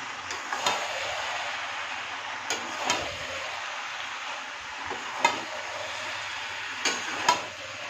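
Malabar spinach stalks and a fish head frying with spices in a pan, a continuous hissing sizzle broken by occasional sharp clicks and scrapes of stirring.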